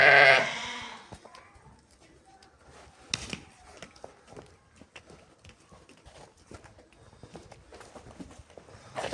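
A flock of sheep, ewes, rams and lambs, bleats near and far, with scattered bleats over background shuffling and hoof sounds, a louder burst at the start.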